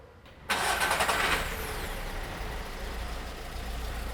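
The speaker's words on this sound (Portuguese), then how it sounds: "Vamos dar partida no motor." A car engine cranks and catches abruptly with a loud burst, then settles into a steady idle hum in a workshop, with no talking.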